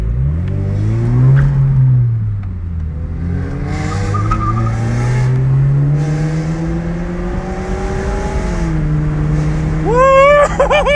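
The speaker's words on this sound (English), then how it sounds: "Got that new exhaust in my car." A Lexus RC F sports car fitted with a new aftermarket exhaust drones with a loud, steady engine note that rises and falls as it revs, close by and continuous.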